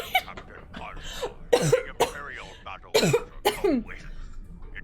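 Several rough, bursting coughs mixed with breathy laughter and strained vocal sounds, close and fairly loud.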